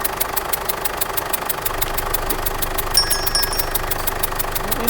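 A car engine runs steadily with an unusual sound: a fast, regular ticking or knocking over a constant idle hum, close and even throughout, with no talking.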